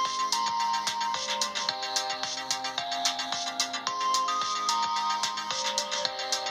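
A GarageBand melody loop plays steadily on its own, a bright electronic tune of repeating plucked notes over a regular beat, loud and continuous throughout.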